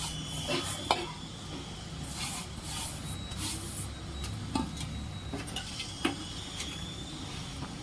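Grated jaggery melting in ghee is stirred in a pan for dry-fruit ladoo, giving a faint, low background sizzle broken by a series of soft scraping and clinking stirs at irregular intervals.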